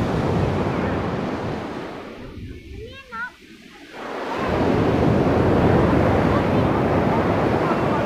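Surf washing onto a sandy beach on the Turkish coast at Alanya, a steady broad rush of breaking waves that dips briefly in the middle before swelling back, loud and continuous with wind buffeting the microphone.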